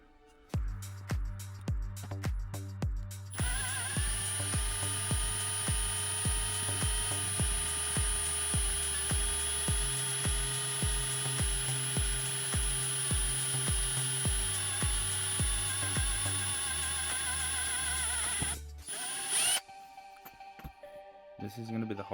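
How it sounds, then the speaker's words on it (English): A power drill runs steadily, boring into the door handle of an Audi A4 B5 Quattro, with pulsing low bursts through the motor whine for about fifteen seconds before stopping, then brief clatter. "I might drill from the centre"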